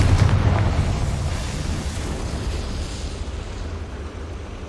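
A Confringo spell explosion in Hogwarts Legacy, a loud low-heavy blast that rolls out into a long rumbling decay and slowly fades over several seconds, with no voices.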